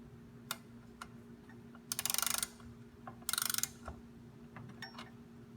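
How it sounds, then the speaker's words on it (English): A ratcheting wrench loosens the front axle nuts on a Liberty Trike, giving two short bursts of rapid clicking, close and fairly quiet, separated by scattered ticks and small handling knocks, with no talking. "you can grab your wrench and remember righty-tighty, lefty-loosey, and you can start to loosen the axle nuts here"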